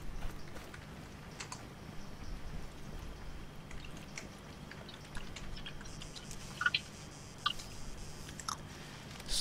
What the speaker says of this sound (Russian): Слышен лишь чат и чавканье.